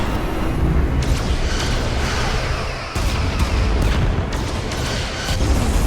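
Starship taking heavy weapons fire in the video game Star Trek Resurgence: loud, dense rumbling booms and blasts rolling continuously, with a brief dip before the impacts resume at full force.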